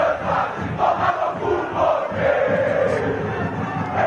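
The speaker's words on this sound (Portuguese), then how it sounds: "Ouça o fundo de torcida." Football supporters chant in the stands during a Guarani vs Ituano Paulistão 2023 match. A continuous, roaring mass of voices with a rhythmic chanted rise and fall, steady and loud throughout.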